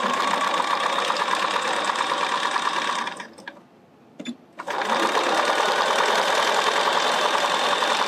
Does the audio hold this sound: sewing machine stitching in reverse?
yes